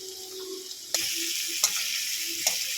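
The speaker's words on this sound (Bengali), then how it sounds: "এতে এই তেলে এবারে পটলগুলো ভেজে না" Pointed gourd pieces fry in hot oil in a home kitchen, a steady hissing sizzle broken by a few sharp stirring knocks.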